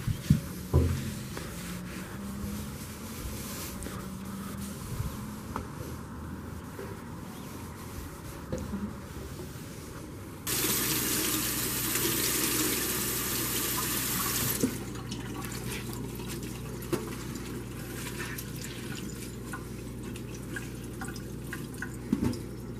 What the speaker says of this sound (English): What I'll probably end up doing is just wetting this rag.